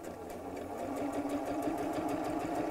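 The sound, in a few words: sewing machine doing a small straight stitch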